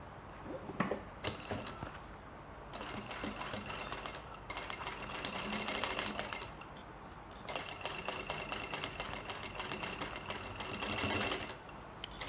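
A sewing machine runs in long continuous bursts while stitching a pleated fabric bag, its rapid needle clatter close and loud, with brief pauses between runs and no talking.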